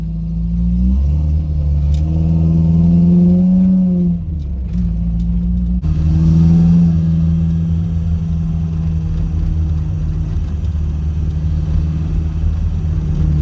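A Dodge Ram 50 pickup truck drifts at golden hour, its engine rumbling loudly and revving up and down before settling into a steady close drone.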